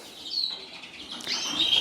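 Inside a birdroom, pet canaries and native finches keep up high chirping and trills over a constant airy background. The calls grow busier and louder in the second half.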